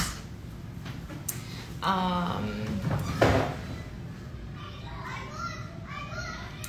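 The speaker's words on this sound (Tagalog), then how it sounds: "kalimutan ko kasi ingay ng mga bata sa labas" Children play and shout outside, their voices rising in bursts at middle distance over a steady background hum, with a few knocks in between.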